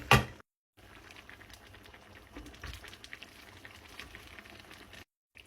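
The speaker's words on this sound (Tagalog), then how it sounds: "And then, takpan muna natin. So, ayan at kumukulo na." Pancit canton sauce with broccoli simmers in a covered pot, giving a steady soft bubbling hiss at close range, briefly cut to silence near the start and end.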